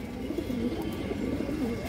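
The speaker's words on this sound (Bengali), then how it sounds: "টকটকা লাল গিয়ারের কবুতর।" Domestic pigeons with bright red eyes coo steadily, a low throaty rolling call repeated close by with no voices over it.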